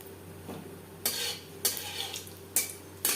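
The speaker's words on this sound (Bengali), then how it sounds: "4 চামচ সরষের তেল গরম করে নিয়েছি। দিয়ে দিলাম 1/2 চামচ কালো জিরে।" Black cumin seeds tossed into hot mustard oil give a soft sizzle, broken by several sharp scraping and clinking stirs of a utensil against the pan at irregular intervals, close and fairly quiet, with no talking.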